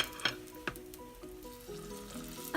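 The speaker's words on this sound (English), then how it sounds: "I'm going to fry the rest off camera" Lamb spring rolls fry in hot oil with a quiet, continuous bubbling sizzle, broken by a few sharp clicks and pops close by.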